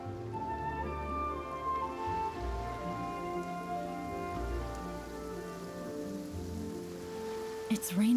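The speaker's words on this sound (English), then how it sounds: "It's raining again?" Steady rain falls in the Genshin Impact game world, a continuous hiss of drops on surfaces with a low musical score beneath and a brief sharp sound near the end.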